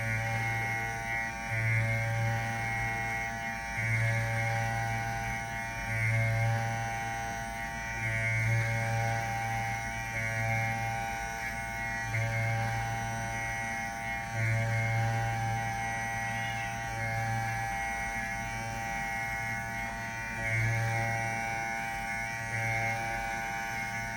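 Electric hair clipper cutting hair during a classic comb-over haircut: a steady mains-like buzzing hum with a rhythmic pulsing as the blade works through hair, continuous and close.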